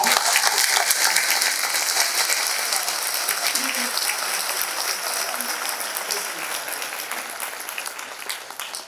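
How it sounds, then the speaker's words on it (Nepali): A church congregation at a prophecy and deliverance service clapping loudly together, with sustained dense applause that tapers slightly toward the end and some voices mixed in. "हामी जोडले ताली बजाएर"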